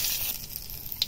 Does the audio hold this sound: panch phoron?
yes